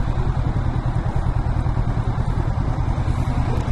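A motorcycle engine idles close by, a steady low rumble with no voices.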